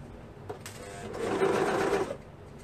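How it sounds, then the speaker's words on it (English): A serger sewing machine runs briefly while stitching the neckband onto a long-sleeve t-shirt, a close whirring mechanical hum that ramps up, holds steady for about a second and a half, then stops. "I'm going to stitch the neckline on and I am going to use my serger for this"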